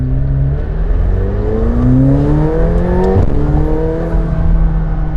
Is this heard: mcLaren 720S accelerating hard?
yes